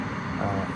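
A steady whooshing laptop cooling fan hum fills the background, constant and close.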